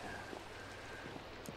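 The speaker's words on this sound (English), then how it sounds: "being a little bit disappointed that it's raining outside." Steady rain falls in a Minecraft world on a rainy morning, a soft continuous hiss with scattered light drops and patter, fairly quiet and unbroken, with no talking.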